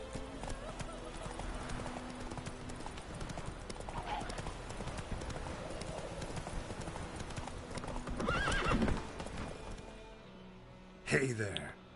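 Roach, the horse in The Witcher 3: Wild Hunt video game, gallops with a steady clip-clop of hooves, then lets out a loud whinny near the end, while players chat and laugh over the game audio.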